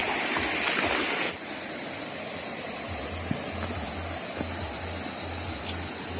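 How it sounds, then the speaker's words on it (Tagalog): A flowing creek is crossed on foot on the way to a goat pen, with a steady broadband rush of water, louder at first, and a low engine-like hum in the background. Nobody speaks. "Tawid tayo dito sa sapa."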